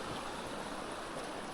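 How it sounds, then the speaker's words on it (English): A shallow winter brook fed by a waterfall in the Kinsman Mountains runs with a steady, close, broadband rushing and gurgling, unbroken and even for the whole stretch. "that waterfall I've been following trickles down into this brook here"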